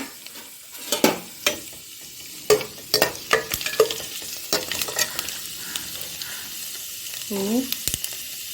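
Karuvadagam seasoning crackles and sizzles in hot oil for a Vellore thorny brinjal kuzhambu, with steady frying hiss broken by sharp spoon clinks and stirring scrapes against the pan, close up, and a short muffled voice near the end.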